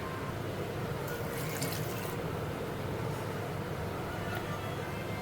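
Water poured into a vegetable curry of green chilli, carrot and bottle gourd pieces, a steady broadband wash of liquid running throughout with a brighter splashing burst near the middle.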